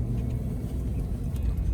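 A four-wheel-drive truck drives along a forest road on Spruce Road in the Marcell Experimental Forest, giving off a steady low engine rumble that is heard from inside the cab.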